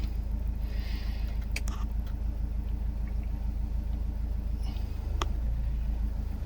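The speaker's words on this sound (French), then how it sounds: "on entend une légère baisse du camion quand même parce que l'alternateur est tire" A van's engine idling under extra load from an alternator charger feeding a portable battery, a steady low rumbling drone throughout with a couple of brief clicks and a slight dip in the hum.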